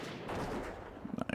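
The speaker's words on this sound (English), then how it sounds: "Watch me shoot through this tree." A dwarf hunter's gun fires in classic World of Warcraft, a single muffled shot with a rolling tail, followed by a few quick faint clicks near the end.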